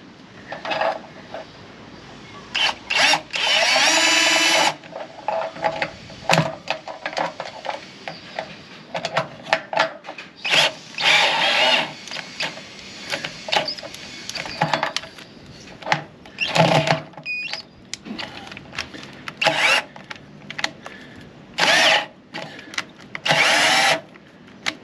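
A battery-powered drill runs in repeated loud, close bursts of varying length with short pauses, while a Stone Stomper is being fitted as a home job during lockdown; no one speaks.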